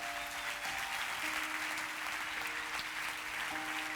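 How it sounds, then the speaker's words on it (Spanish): A church congregation claps steadily and continuously, a dense wash of applause that holds at the same level throughout. "Dele ese aplauso."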